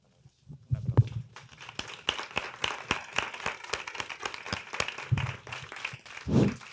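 Applause from an audience at a corporate sustainability event in Spain, a dense patter of claps that begins sparse, swells into steady clapping and carries on with a few louder bursts near the microphone.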